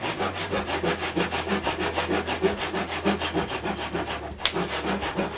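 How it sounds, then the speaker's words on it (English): A handsaw cuts through wooden splines at a door's corners with steady, rhythmic back-and-forth strokes, close and fairly loud, with no talking. "I can cut the splines."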